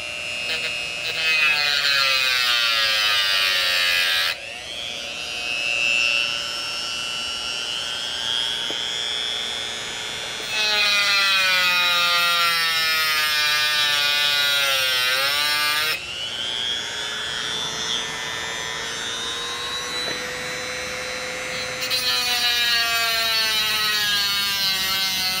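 A cutoff disc nibbles at a Chicago Schwinn bicycle part in several long passes. Each pass is a loud, high-pitched grinding screech whose pitch sags and wavers as the disc bites into the metal.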